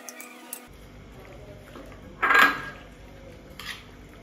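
A spoon scrapes and clinks against a cooking pot as pork with koorka is stirred, with one louder clatter in the middle and softer taps around it in an otherwise quiet kitchen.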